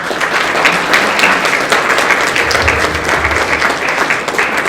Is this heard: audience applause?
yes